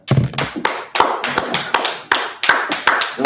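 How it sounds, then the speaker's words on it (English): Sharp, loud claps ring out one after another in a loose, uneven rhythm, close up, with short pauses between them. "let's clap it up"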